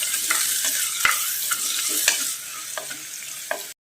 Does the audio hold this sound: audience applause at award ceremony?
no